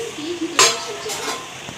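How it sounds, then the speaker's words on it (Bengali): Luchi deep-frying in a pan of oil, a soft continuous sizzle with a sharp scrape or clink of a utensil against the pan partway through. "চলো লুচিগুলো আমি ভেজে নিই"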